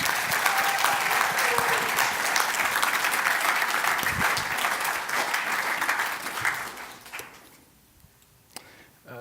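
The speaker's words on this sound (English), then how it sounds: "Why don't you give them a round of applause?" A church congregation applauds during a Sunday sermon, dense steady clapping that holds loud for several seconds, then thins and fades out quickly near the end, leaving a few isolated sounds.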